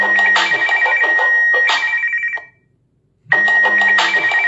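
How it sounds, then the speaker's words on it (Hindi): A smartphone ringing through a Fire-Boltt Quantum smartwatch's find-my-phone feature: a loud close ringtone that plays, stops for about a second, then starts again. "आपके फोन में रिंग बजेगी"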